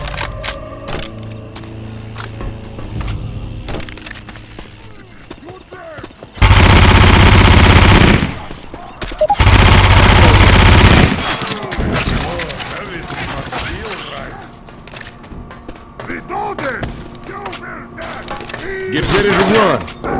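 Bursts of automatic gunfire from a modded Left 4 Dead 2 co-op match on The Parish, two loud sustained volleys around the middle, with game voices and in-game chatter around them.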